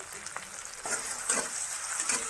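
Masala with tomato and onion frying in a pan, a steady bright sizzle with occasional spoon stirs and scrapes, close and continuous with no talk.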